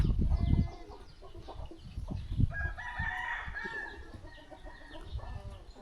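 Chickens cluck and a rooster crows in a remote forest village without electricity, the crow rising midway over scattered clucking and low outdoor bustle, fairly close.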